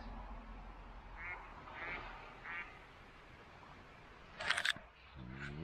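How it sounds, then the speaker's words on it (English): Ducks quacking outdoors in damp, humid weather near an airfield, a few scattered calls followed by a louder, sharper burst of quacks toward the end. "Ducks."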